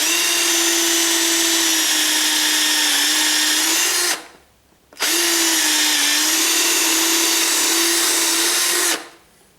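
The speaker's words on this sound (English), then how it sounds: "So I'm just going to drill me a hole" A power drill with a 5/16 inch bit whines loudly and steadily, stopping briefly once before starting again for a second long run, close by.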